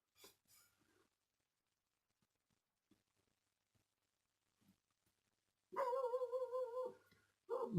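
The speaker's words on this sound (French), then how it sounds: "on a le chien qui aboie" A dog barks indoors in a home, two loud rapid bursts of barking near the end after a quiet stretch with faint soft sounds, with no talking.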